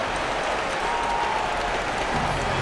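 Steady crowd applause and cheering fill an NBA 2K arena as the home fans celebrate a win, a dense wash of clapping that holds at an even level throughout.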